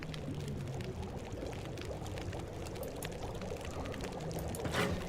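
Water pours steadily and continuously in a survival video game while cooking, a close, even stream with no voices over it.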